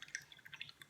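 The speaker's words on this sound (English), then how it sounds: "And I just swish it back and forth like that, wipe it clean" An ink brush swished in a cup of water for cleaning gives a few faint, quick liquid drips and light splashy ticks, quiet and close with nothing else around.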